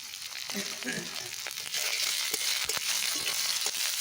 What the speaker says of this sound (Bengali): পেঁয়াজ লঙ্কা রসুন লাল লাল করে ভাজা হয়ে গেছে